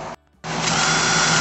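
A power drill bores holes into a wall to mount an automatic dog water feeder: a short whir, a brief pause, then a steady, close, continuous drilling drone with no talk.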